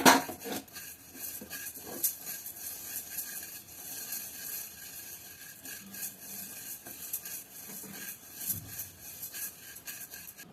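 Moong dal being roasted and stirred in a pan, with scraping, clinking strokes of a spoon against metal and a soft background sizzle, irregular and close, no talking.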